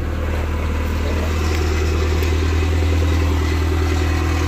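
A 1993 Toyota MR2 engine idles steadily and evenly close by, a constant mid-pitched hum with no revving and no talking.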